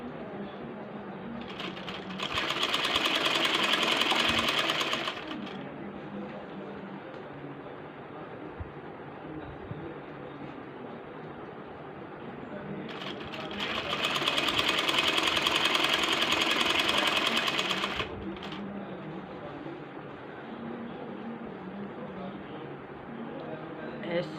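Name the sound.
sewing machine stitching piping onto kameez slit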